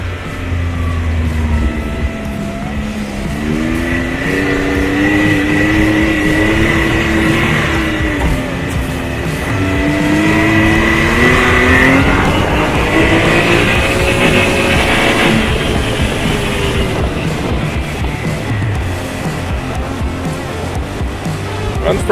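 A 2020 Can-Am Maverick X3 Turbo side-by-side drives close by on dirt, its turbo engine revving up and down in rising and falling sweeps, loud and continuous.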